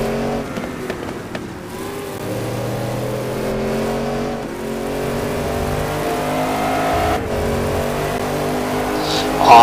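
Race cars accelerating and braking at the Most circuit during an STC Black Cup 2011 round: loud, close engines drone and rev steadily, pitch rising and falling through gear changes, with a commentator's voice at times.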